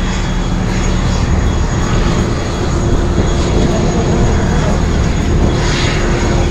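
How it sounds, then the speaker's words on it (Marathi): A small 18-seat passenger aircraft in flight from Hyderabad to Sindhudurg, heard from inside the cabin as a steady, loud, unbroken engine roar that continues for the whole stretch, with faint talk mixed in. "काही असं हे विमान आहे, छोटं एअरक्राफ्ट."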